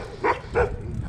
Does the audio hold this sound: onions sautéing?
no